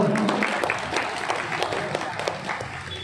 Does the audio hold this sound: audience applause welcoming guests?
yes